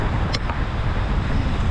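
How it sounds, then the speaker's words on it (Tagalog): Strong, cold wind blowing outdoors on a solo backpacking day, a steady broadband roar buffeting the microphone throughout with no voices. "Kahit na malamig, malakas yung hangin."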